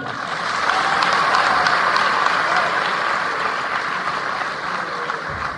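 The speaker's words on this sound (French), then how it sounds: "Vous pouvez applaudir pour vous-même." Guests at a river-monitoring review event in a palace hall applaud themselves, a dense, steady wash of clapping from a large crowd that holds strong throughout and eases slightly near the end.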